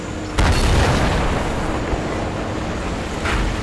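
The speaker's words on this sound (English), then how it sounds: "as I cop a E5 shell through the side of my turret" A tank shell from an E5 tank slams into the side of a turret in a tank video game, a sudden deep boom at the start followed by a sustained low rumble and a second softer thud near the end, with no talking.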